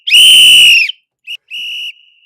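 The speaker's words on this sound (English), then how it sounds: "let's start with a whistle" A sharp whistle blasts once, loud and shrill, then gives a short chirp and a second, briefer blast.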